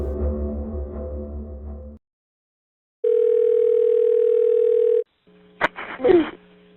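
A telephone dial tone sounds on a call to a sheriff's office: a steady, loud tone lasting about two seconds, preceded by a stretch of rumbling noise and followed by a short burst of clicks and noise.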